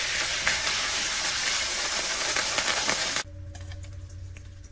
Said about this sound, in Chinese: 木耳也要炒一下